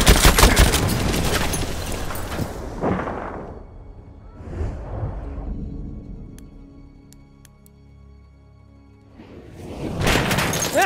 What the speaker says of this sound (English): That's an enemy shot!